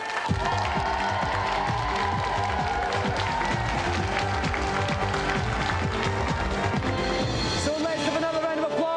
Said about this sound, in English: let's have another round of applause for Carl Roberts and Reza Abdelali